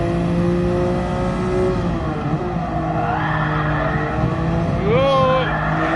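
Race car in GT Sport at Spa, engine note dropping under braking with a downshift, then tyres squealing in a wavering skid near the end, steady and close.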